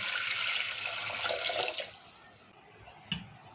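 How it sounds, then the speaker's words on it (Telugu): Water pours into a cooker holding peas in a steady rushing stream for a couple of seconds, then tapers off, followed by a soft clink. "వాటర్ పోస్తుంది"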